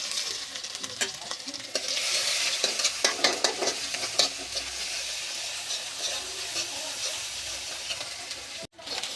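Onion and garlic fry in hot oil with a loud, continuous crackling sizzle right up close, while a spatula stirs and scrapes the pan at irregular intervals, broken by a brief drop near the end.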